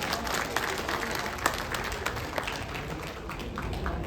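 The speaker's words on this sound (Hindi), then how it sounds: "एक बार जोरदार तालियां उनके लिए बजा दीजिए।" A political rally crowd gives a politician sustained, dense applause that carries evenly throughout, with scattered louder claps.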